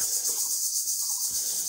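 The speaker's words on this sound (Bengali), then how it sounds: "আর এদিকে পুরো ঝিঝি পোকার ডাক আসছে।" A steady, high-pitched drone of crickets chirping fills the air continuously beside a small ditch by a paddy field, with little else audible beneath it.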